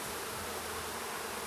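Bees crowd a busy hive in a steady, dense hum that stays close and unbroken throughout, with no voices over it.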